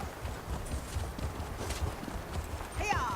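Hooves clip-clop steadily at a stable master's yard in a video game, close and even-paced under a speaking voice, with a short whinny near the end.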